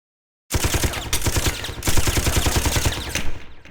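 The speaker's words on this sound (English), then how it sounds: "Aigis shut away your restraints with her machine guns." Aigis fires her machine guns in Persona 3 Portable: after a short silence a loud, continuous rapid-fire burst rattles for about three seconds, dense and unbroken.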